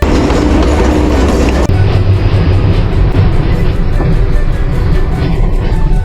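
A 140-year-old train running on cliffside rails, a loud continuous rumble with rhythmic clatter of wheels heard from inside the carriage, briefly dropping in tone partway through.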